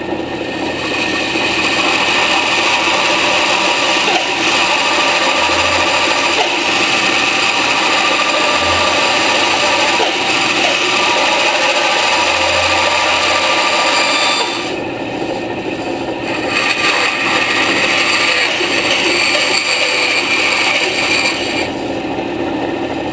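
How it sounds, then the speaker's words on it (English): A bandsaw cuts a curved line through a piece of wood: a loud, steady whine and rasp that runs continuously, briefly easing partway through before resuming. "take it over to the bandsaw, and you can see I put a curve here. I'm just going to cut that curve out"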